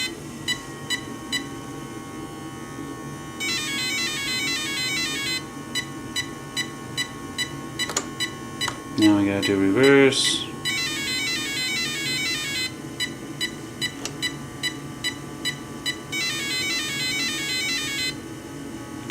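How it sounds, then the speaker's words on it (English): Repeated electronic beeps and tone bursts in patterned groups from a Traxxas Slash RC car speed controller during calibration, with a brief whirring motor surge midway and a voice speaking briefly. "listen to a bunch of beeping"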